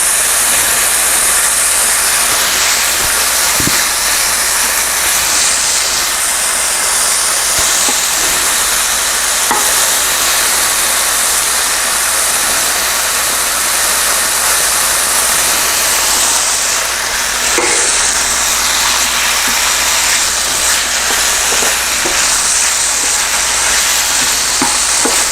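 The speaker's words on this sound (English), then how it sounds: "We're going to stir fry our beef 2 to 3 minutes till we get a nice, hopefully nice sear on it." Beef strips stir-frying in a hot pan for Chinese restaurant-style pepper steak, a loud, steady sizzle and hiss running continuously throughout with occasional scraping stirs and no talking.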